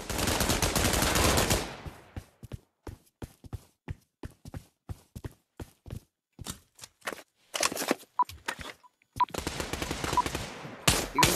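Gunfire in a virtual reality shooting game arrives in rapid automatic bursts, then in sharp single and clustered shots with gaps between them, loud and close.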